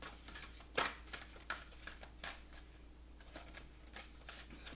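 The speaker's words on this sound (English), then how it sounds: "I'm just shuffling." A deck of tarot cards is shuffled close by in quiet, repeated riffling bursts, one slightly louder flick standing out, with no talking over it.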